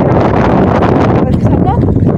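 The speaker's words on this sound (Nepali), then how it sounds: "साथीहरू कत्रो हावा चलिरहेको छ।" Strong wind buffets the microphone with a loud, rough roar, continuous and close throughout.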